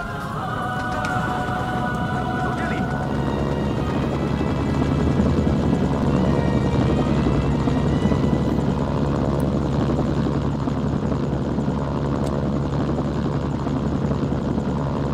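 Helicopter in Mercenaries, a loud continuous rotor drone and engine whine holding steady throughout, close by, with no one talking.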